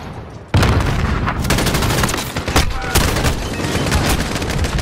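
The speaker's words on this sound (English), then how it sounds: "Who is shooting me?" Loud, sustained automatic gunfire in Call of Duty Modern Warfare 2, a dense close-range barrage with rapid cracks and booming hits that starts abruptly and runs continuously to the end.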